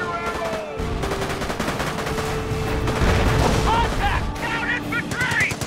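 Battle gunfire in Company of Heroes: Tales of Valor during the Normandy invasion campaign, with dense overlapping rifle and machine-gun bursts rattling continuously up close while shouted voices cut through the din.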